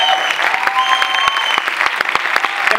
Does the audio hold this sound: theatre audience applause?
yes